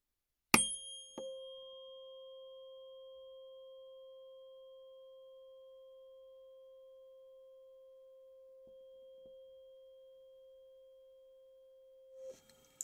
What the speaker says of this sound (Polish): Posłuchajcie, to jest kamerton z aluminium.